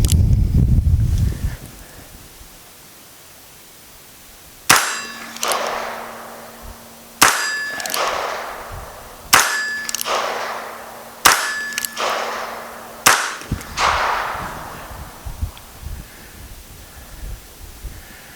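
A budget Heritage Arms .22 Magnum revolver with two cylinders fires five sharp, loud shots at a target outdoors, spaced about two seconds apart, each crack trailing off in a short echoing decay.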